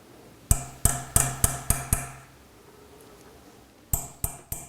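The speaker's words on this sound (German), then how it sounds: "Die goldene Fassung, die ich gemacht habe, wird mit Punzen und Hammer an den Stein angetrieben." A small hammer strikes a punch to push a gold bezel setting down onto a stone for a men's ring: six sharp metallic taps in a quick row, a pause, then three more, close and ringing.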